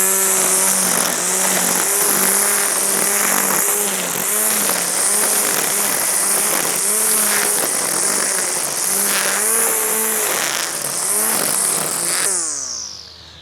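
A Husqvarna 320iL cordless string trimmer runs in turbo mode, cutting tough grass with a loud, close, steady high whine that rises and dips as the line bites into the grass, then winds down at the end.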